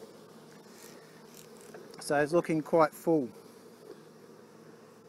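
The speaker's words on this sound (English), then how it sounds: "We've got bees on every frame." Honey bees buzz over full hive frames during a first colony inspection, a low drone rising into a short cluster of louder, closer buzzes near the middle, with a person talking over the hum.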